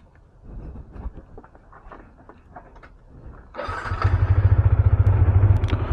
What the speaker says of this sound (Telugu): ఫస్ట్ కోల్డ్ స్టార్ట్ అయితే చేయాలి